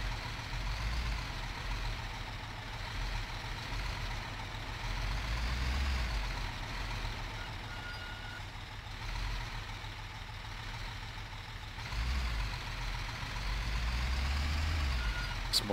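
A large truck in Construction Simulator 2015 rumbles steadily at idle and low revs, while a faint repeating reversing beep sounds above the engine drone, which swells and eases a few times.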